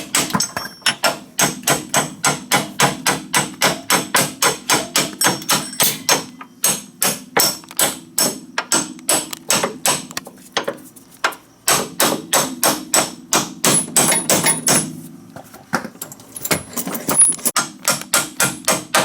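Hammer tapping a bolt into a DeLorean lower control arm suspension support link, dozens of sharp metallic taps in fast steady runs broken by short pauses, close and loud.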